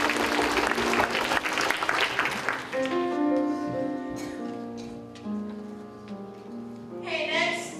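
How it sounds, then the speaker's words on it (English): Audience applause at a closing ceremony: dense, loud clapping that fades after a few seconds into sustained musical tones, with a brief burst of crowd noise near the end. "you all deserve a round of applause"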